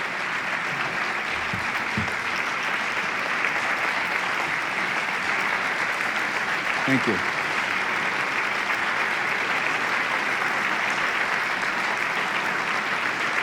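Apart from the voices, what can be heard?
audience applause after talk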